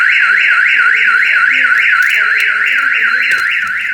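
A Honda Civic's car alarm wails continuously, its tone sweeping up and down in a steady repeating cycle, loud and close, with no talking.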